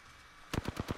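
A rapid burst of about six automatic gunshots in Apex Legends, fired at a cargo bot, close and punchy after a moment of quiet.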